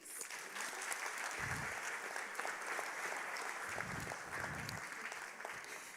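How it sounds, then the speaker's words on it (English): Audience applause at a Cheyney University Kente ceremony: a steady, dense wash of clapping fills the hall for the full six seconds, with a few low thumps underneath. "Give a round of applause to yourselves."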